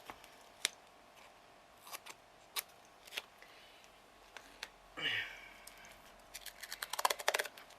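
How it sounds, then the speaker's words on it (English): Scissors snip strips of strong tape for a shadow box craft, a few faint sharp cuts scattered through near silence, with a crinkling rustle midway and a quick cluster of snips at the end. "Okay, so I'm just going to cut some strips"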